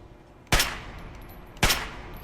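Two sharp, loud gunshots from the video game Fallout 3 ring out about a second apart, each with a short decaying tail over a quiet background.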